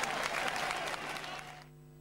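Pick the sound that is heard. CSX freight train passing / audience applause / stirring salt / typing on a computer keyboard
audience applause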